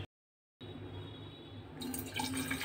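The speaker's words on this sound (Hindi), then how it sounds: "ये पानी डाल दिया है मैंने" Hot water pours steadily into a bottle, a continuous gurgling, splashing stream heard close by that grows brighter and louder as the bottle fills, with no voices.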